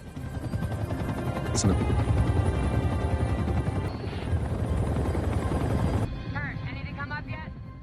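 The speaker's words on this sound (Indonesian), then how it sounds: "ia mendengar suara baling-baling helikopter dari kejauhan" A helicopter's rotor thrums steadily and loudly during a search over snowy mountains, with other sounds cutting in briefly and a sudden drop in noise near the end.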